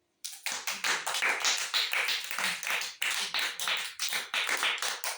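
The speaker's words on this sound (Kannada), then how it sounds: "ಸುಪ್ಪ್ಯಾಗ ಚಪ್ಪಾಳೆ ಹಾಕ್ರಿ ಎಲ್ಲಾರು" A group of people clapping hands in a steady, rhythmic beat, loud and close, continuing without a break after a short silent start.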